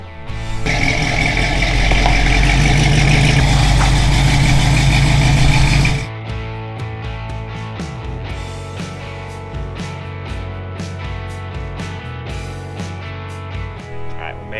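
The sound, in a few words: old Pontiac Firebird engine running while driving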